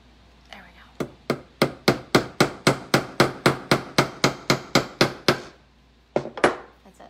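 A hammer taps lightly on a small upholstery tack, about fifteen even light strikes in a row, close and crisp, then a couple more after a pause.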